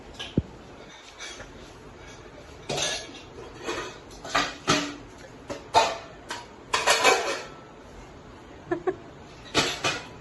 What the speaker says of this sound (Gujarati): ફટાફટ વાસણ ઘસી લઈએ